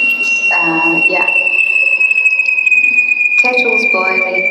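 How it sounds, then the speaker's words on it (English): A kettle whistles continuously on a steady high tone from start to finish, while people talk intermittently over it in an indoor setting. "Kettle's boiling."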